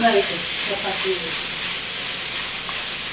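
Bitter gourd curry fries in a pan, giving a steady, even sizzle that stays close and moderately loud for the whole stretch, with a little stirring noise and no speech.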